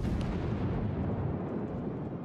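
Naval gunfire in the World of Warships video game: a dense, sustained rumble of heavy guns and blasts rolling on without a break, loud and close throughout, with no talk.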